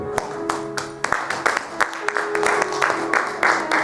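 A church congregation breaks into applause, a steady, dense wash of clapping hands with sharp rhythmic accents, close and loud, with some voices mixed in.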